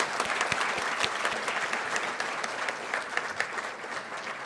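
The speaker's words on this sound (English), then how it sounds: "Please join me giving a big round of applause to all the prize winners." An audience at a university convocation ceremony applauds the chemistry prize winners at IIT Madras with steady, moderately loud clapping, with a few sharper individual claps standing out throughout.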